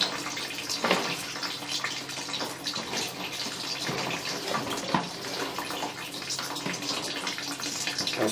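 A toilet flush in a tiled room beside a row of urinals, water gushing and rushing steadily throughout with a few louder surges, close and fairly loud, no voices.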